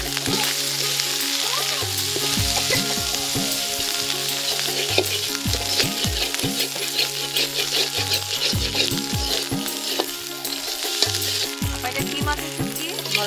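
Dried mola fish sautés in a pan with banana-tree stem, a steady dense sizzle broken by repeated scraping, clinking strokes of a spatula stirring against the metal, close and continuous.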